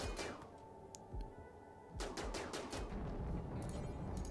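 Rapid bursts of gunfire aimed at a ship in the colony game Rimworld, clustered sharp shots in two volleys with a brief pause between, fairly quiet and without talk.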